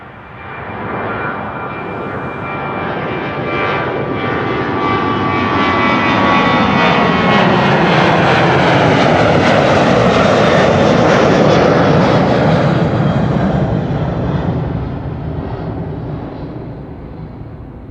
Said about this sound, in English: And KLM flight 1199 to Oslo, passing by in the foreground.